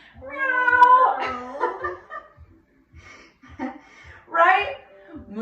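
During a family yoga session in cat-cow pose, voices imitate cat meows: a long drawn-out meow, several shorter ones and a final meow near the end. Soft breathing and a faint, steady low ticking run underneath.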